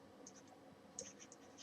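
Chalk or marker writing on a board during a finance lecture on credit policy, heard as a few brief faint scratchy strokes, near and with no talk.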